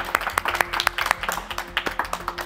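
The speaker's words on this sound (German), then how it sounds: "Also nochmal Applaus für euch." A small crowd claps steadily for a couple of seconds, close and moderately loud, with a faint voice underneath.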